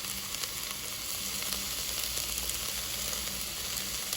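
Garlic frying in a pan of hot oil, a steady dense crackling sizzle that stays close and even throughout with no talking over it.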